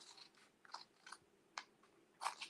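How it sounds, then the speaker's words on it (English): Scissors snip a section out of a nativity transfer sheet, making a few sharp separate cuts spaced out over a quiet background, close and fairly soft. "So I'm just going to cut this portion out."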